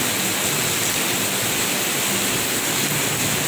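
Torrential rain hisses loudly and without letup, a constant broad rush of water falling nearby on a Holy Wednesday afternoon.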